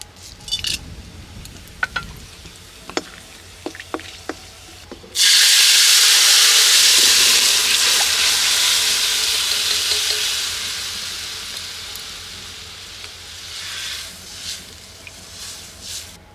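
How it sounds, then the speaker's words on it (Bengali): Whole garam masala spices dropped into hot oil in a wok: a few light clicks, then a sudden loud sizzle that bursts up and slowly fades, with faint stirring scrapes near the end. "এবার গরম মশলা ফোড়ন দিয়ে দেবো"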